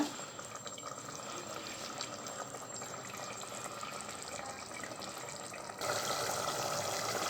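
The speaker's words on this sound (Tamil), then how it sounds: "நல்லா கொதிச்சு வருது" Mutton biryani cooking liquid boils in a pot, giving a close, continuous bubbling wash that swells noticeably louder near the end.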